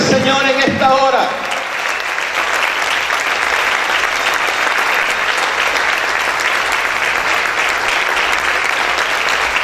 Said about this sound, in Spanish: Aplaude fuerte al Señor en esta hora.